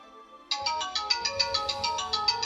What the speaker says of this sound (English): Great timing on the phone there.